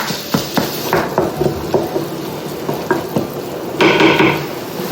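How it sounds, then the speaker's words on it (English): Ground meat frying in a pan for baked kibbeh, seasoned with salt, with steady sizzling under repeated scraping and clinking strokes of a utensil stirring it, louder toward the end. "I'm gonna fry the meat till it's well done"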